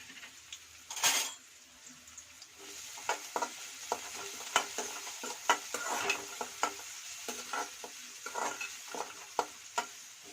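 Chopped garlic and onion fry in hot oil in a pan, a soft sizzle running under frequent clinks and scrapes of a metal spoon stirring against the pan, with one louder clatter near the start.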